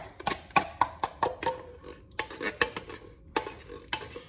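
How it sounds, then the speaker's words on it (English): Apple pie filling is added to cake mix, heard as a quick run of sharp spoon clinks and scrapes against a bowl, a short pause, then another cluster of clinks, close and moderately loud. "now I'm just gonna add the rest of the apple pie filling into the cake mix"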